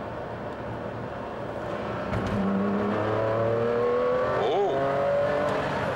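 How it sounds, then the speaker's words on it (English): A car's engine, switched into race mode and held in the rev band, climbs and surges loudly with rising pitch and a brief shift, close and strong; a voice briefly exclaims. "there's one button I've got to try, and that's the race button. Just to see how different it feels, because it does sharpen up the engine"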